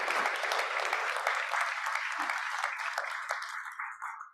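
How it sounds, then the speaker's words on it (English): At a League of Women Voters fundraising event, an audience claps for a group of women, a continuous patter of applause that holds steady and then thins and fades toward the end. "So another round of applause for those amazing women"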